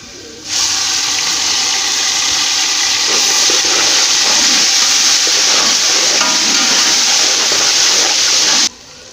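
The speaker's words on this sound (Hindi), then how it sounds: "अब हम इसमें डालेंगे पिसा हुआ अदरक लहसुन 4 चम्मच।" Ginger garlic paste hitting a hot pan of browned onions and spices, giving a loud, steady hiss of frying that starts abruptly, holds constant for about eight seconds, then cuts off.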